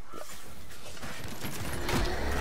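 An explosion in the Medievil video game, out in a scarecrow field: a dull rumbling blast that swells near the end of a short stretch of crackling, noisy game sound.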